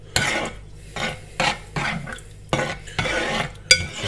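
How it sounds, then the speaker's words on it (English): A spoon stirs tomatoes into garlic and spices in a pan, about eight scraping strokes in a loose rhythm against the metal with faint sizzling, close up and without talk. "we're going to get our tomatoes, in it goes, and just get that mixed around a little"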